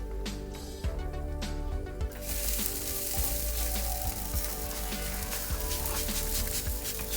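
Meat on a cooker sizzles loudly and steadily, swelling into a brighter hiss as it is spritzed with 100% apple juice, close up with no talk.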